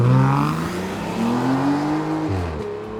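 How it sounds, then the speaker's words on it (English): A car accelerates hard past a FedEx truck in a riverside residential community in St. Johns, Florida. The engine drones loudly and steadily, climbing in pitch, then drops sharply near the end as it shifts gear. "I'm gonna drive really, really fast here so you can see"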